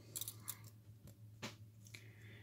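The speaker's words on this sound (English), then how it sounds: "There's those scissors again." Small scissors on a Victorinox Alox Swiss Army knife snip and click a few times close up, quiet metallic snaps with faint handling rustle between them.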